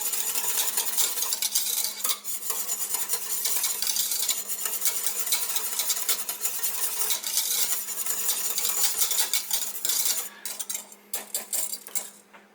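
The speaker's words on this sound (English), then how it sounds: "I'm going to get this good and stirred in here" A spoon stirring strawberry ice cream base in a metal pot, repeated scraping and clinking strokes in a steady rhythm, close and clear with no talking.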